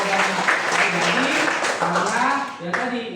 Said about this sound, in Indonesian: tepuk tangan buat Kenza dulu